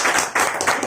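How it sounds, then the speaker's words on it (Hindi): A short burst of audience clapping, loud and dense, from an indoor talk. "मैं तो चाहता हूं ताली बजा दी।"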